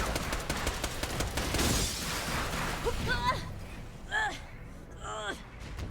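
Gunfire in Borderlands: The Pre-Sequel comes as a dense rapid burst of shots and explosions for about three seconds, then fades to sparse pops while a voice talks over it.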